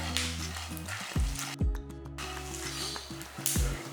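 Nuts dry-roasting in a pan for a protein nut powder, a soft continuous sizzle with a few clear scrapes and clinks of a spoon against the pan, close and fairly quiet.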